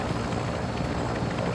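A helicopter flying in the video game Warzone 2, heard as a steady, loud rotor and engine drone that fills the short stretch without break.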